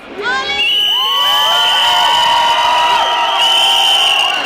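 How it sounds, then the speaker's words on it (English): A large crowd of student protesters at a national protest against fees in Ireland cheers and whoops loudly and continuously, with many shrill voices rising and falling together at close range. "There's a huge crowd here and it's a real sign of strength before the budget"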